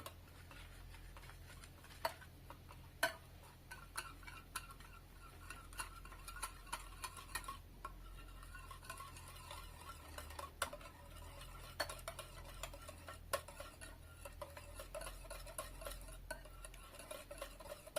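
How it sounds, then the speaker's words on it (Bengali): A whisk mixes pudding batter with vanilla essence in a bowl, giving faint, quick, irregular ticks and clinks against the bowl with no voices. "আবারও হুইক্সের সাহায্যে খুব ভালোভাবে মিশিয়ে নেব সব"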